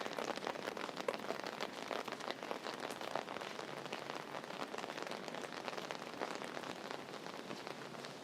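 Heavy rain pours down on North Bridge Road, a dense constant hiss of drops hitting surfaces, with no voices and no pauses.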